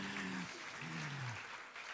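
Faint, steady applause from an audience at a French education conference session on game-based learning in kindergarten, with a couple of voices briefly rising above the clapping.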